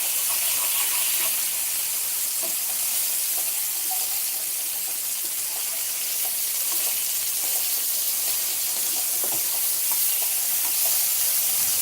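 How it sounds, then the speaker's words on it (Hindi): Bombil fish and prawns fry in a pan over medium gas, a steady dense sizzle and crackle with occasional pops, continuous throughout and fairly close. "इसको मीडियम गैस पे फ्राई करने का।"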